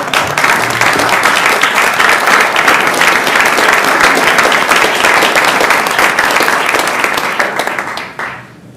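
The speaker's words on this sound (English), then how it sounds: "would you please stand at this time so we may recognize Dr. Baldwin and applaud" Sustained applause from a standing audience at a university system board of regents meeting honoring a departing colleague, steady dense clapping for about eight seconds before fading out near the end.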